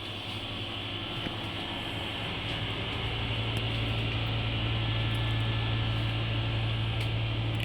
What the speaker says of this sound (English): You can hear that aircon humming away.